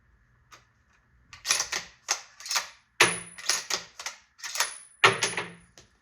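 A Ruger bolt-action rifle in 6.5 Creedmoor or .308 is cycled by hand while dummy rounds feed from the magazine, producing a close series of sharp metallic clacks and slides in quick groups, with no talking.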